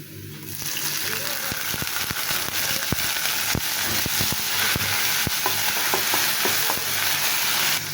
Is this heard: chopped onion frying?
yes